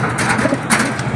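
Racing pigeons being released to fly close by, with soft cooing and rustling wing flaps in a brief burst of activity.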